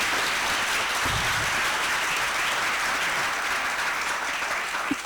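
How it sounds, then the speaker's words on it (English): Steady, dense applause from an audience at a faculty retreat panel on AI and work continues for the panelists at an even level throughout. "A huge round of applause for our panelists"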